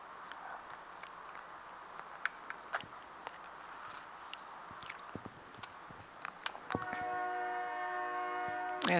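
A train passes outside, heard faintly from indoors as a low rumble with scattered clicks and knocks, ending with a sustained horn blast near the end.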